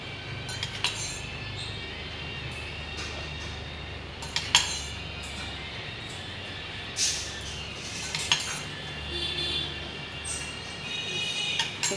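Metal utensils clink and scrape against a pan while mustard oil is added over a hilsa fish curry, giving scattered sharp taps over a low steady background with no talk.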